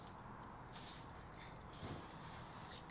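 Spray paint can hissing in long continuous bursts while a music note is painted, a steady close broadband spray that pauses briefly and resumes.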